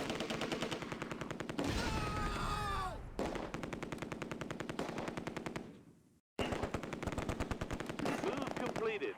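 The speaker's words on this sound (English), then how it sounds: "We're under heavy fire." Rapid machine-gun fire rattles in long bursts during a Close Combat World War II battle at the Oosterbeek landing zone, with a brief gap of near silence before the firing resumes.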